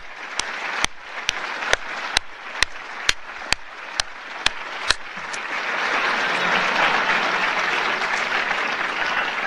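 Applause from a conference audience at a Perl event: about ten sharp, evenly spaced claps from one person ring out first, then a broad, steady wash of many hands clapping together swells in and holds, fairly loud and without talk.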